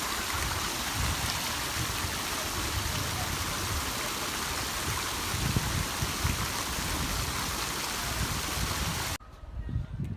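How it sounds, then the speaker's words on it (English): A water fountain in front of the Science Museum in Adelaide, Australia: steady broadband splashing and rushing water, loud and continuous, stopping abruptly near the end. "the water fountain in front of the Science Museum"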